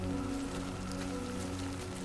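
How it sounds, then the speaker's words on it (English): Rain falling in the video game Death Stranding 2, a steady soft hiss of drops layered over a low sustained hum, with no talking. "Great. Rain. Gotta move."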